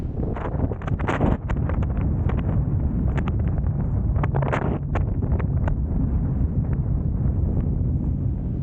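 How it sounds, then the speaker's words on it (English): Strong wind buffets the microphone throughout on a winter walk in Ingram Valley, a steady loud roar with gusty rustling bursts and no talking. "the wind's really getting up"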